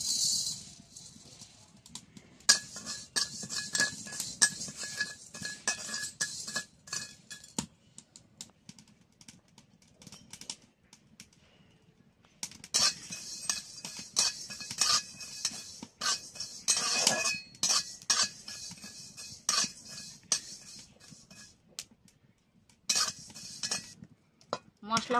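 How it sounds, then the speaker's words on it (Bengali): Panch phoron spices frying in a hot kadai over a stove, with bursts of scraping and clinking from a stirring utensil, irregular and close, pausing briefly midway before resuming. "কড়াটা গরম হয়ে গেছে, আমি পাঁচ ফোড়নটা ভেজে নিচ্ছি।"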